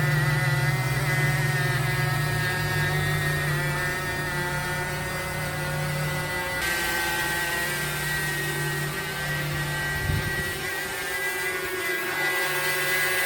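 A DJI Mavic Mini drone fitted with carbon fiber propellers flies nearby with a steady, loud, harmonic whine. The pitch shifts partway through, and the buzzing continues on its own without talk.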